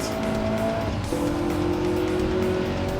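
A Dodge Challenger in Gran Turismo runs at steady high revs, with a continuous engine tone and shifting pitch and some tire noise, loud throughout.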